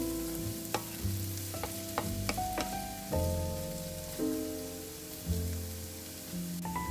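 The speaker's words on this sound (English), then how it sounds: "Stir everything together and keep cooking the veggies over medium-low heat, stirring occasionally." Frozen peas and vegetables fry in a pan over medium-low heat, a soft continuous sizzle broken by occasional scraping and clinking as a utensil stirs them, quiet and close.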